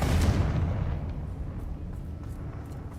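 A Confringo fire-blast spell in the Hogwarts Legacy game, a single deep booming explosion at the start that decays into a low rumbling tail, with no voices.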